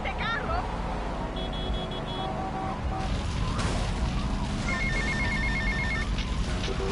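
A payphone rings repeatedly in GTA Vice City, short electronic ring bursts cutting through traffic noise and game audio, with a voice talking throughout.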